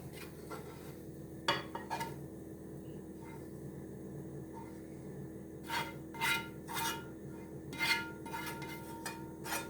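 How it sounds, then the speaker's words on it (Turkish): Strained yogurt mixed with garlic being stirred into a carrot mixture for carrot tarator, with soft scraping and a few clinks of spoon against bowl over steady background hum. "Yoğurdumu da sarımsakla karıştırdım. Şimdi birbirine karıştıracağım."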